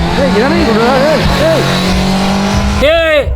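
A car with failed brakes slides with tires squealing in long, wavering, pitch-bending screeches over a constant loud engine roar, ending in a sharper rising squeal, with someone shouting over it.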